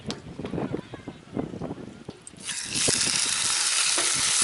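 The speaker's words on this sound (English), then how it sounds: "what you want is that nice sizzle when you put it into the pan" Steak drops into a pan of hot olive oil at an outdoor camp, bursting into a steady, bright sizzle that holds to the end after a stretch of talking and handling noises.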